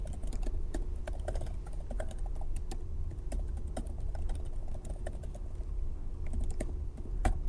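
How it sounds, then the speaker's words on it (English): Steady, rapid clicking of computer keyboard keys as code is typed at a Python prompt, continuous close-up tapping with irregular rhythm and no talking. "if you're typing in the prompt, you need to type enter twice"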